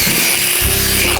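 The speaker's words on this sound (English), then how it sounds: "We'll drill this at a 45-degree angle." Power drill boring at a 45-degree angle into the backing of a coyote trap dirt-hole set, a loud steady whine with a shift in pitch midway, close and continuous.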